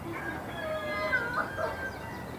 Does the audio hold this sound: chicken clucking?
yes